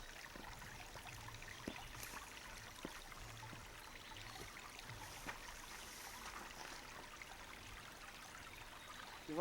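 A rainforest creek flows at a crossing on the way into higher country, a faint, steady wash of running water with a few soft knocks and no voices.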